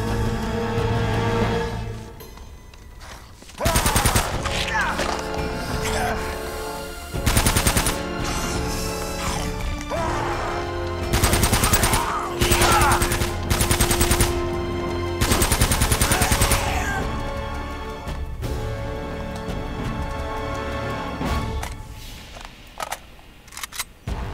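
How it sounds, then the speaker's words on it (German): Bursts of rapid automatic MP40 submachine gun fire in the video game Uncharted, several volleys of varying length separated by brief pauses, loud and close with no talking. "dich kriege ich noch mit der MP40. Noch 5 Schuss."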